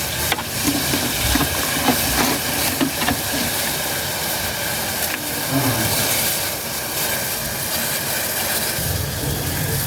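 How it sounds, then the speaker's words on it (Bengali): Water with sugar boils vigorously in a pan on a gas stove for plain tea, a loud, steady bubbling hiss with scattered small pops throughout and no voices. "এখন পানিটা ভালোভাবে ফুটে গিয়েছে।"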